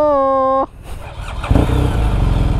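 A Kawasaki Z1000R with a titanium muffler starts up after a brief tone, its engine catching and settling into a loud, rough, throbbing idle close by, with people talking over it.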